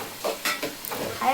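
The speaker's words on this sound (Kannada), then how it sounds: "ನಾನು ಎಗ್ ತವಾ ಫ್ರೈ ಮಾಡಿದ್ದೀನಿ ನೋಡ್ಕೊ" Eggs with turmeric and salt fry on a hot tawa for egg bhurji, giving a soft, uneven sizzle broken by short scraping stirs, close and fairly quiet.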